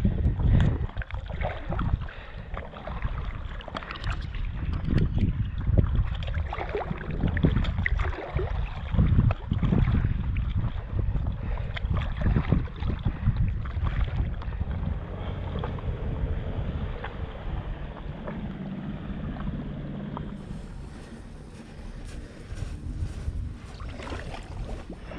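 A sailboat moves along the water beside small coastal caves near Ksamil Island, Albania, with steady rushing water and heavy buffeting wind noise on the microphone throughout, close and loud, with no talking.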